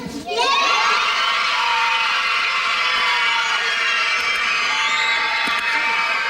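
A crowd of children screams and cheers loudly and continuously, a dense wall of high-pitched shouting that swells in right away and holds.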